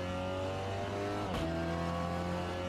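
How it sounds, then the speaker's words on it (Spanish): A Seat Leon TCR race car engine drones at a steady high pitch, then climbs briefly as it is revved on a track, loud and close from inside the cockpit. "Suena muy bien, ¿eh? Suena muy, muy bien el coche."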